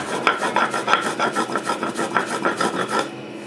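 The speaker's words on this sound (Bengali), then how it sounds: "যে মশলাটা আমার মোটামুটি বাটা হয়ে গেছে এটা খুব মেহি করে বাটবো না একটু আধ বাটা আধ বাটা করে থাকবে" Stone grinder rubbing back and forth over a spice paste for garlic pickle, a rough, steady, rhythmic rasping scrape repeating about every quarter second, loud and close, then stopping just before the end.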